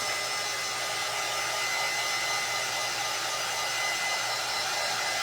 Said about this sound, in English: I am not keeping my dryer in one spot.